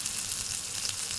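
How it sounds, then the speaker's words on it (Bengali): Onions fry in a pan with a steady, bright sizzle and hiss, close and continuous for a brief moment without speech. "পেঁয়াজ ভাজতেছি"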